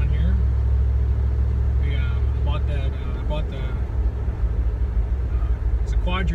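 A 1991 Chevy C3500 rollback tow truck fitted with a quadrajet four-barrel carburetor and a Corvette 350 intake, its engine idling with a steady low rumble while someone talks over it.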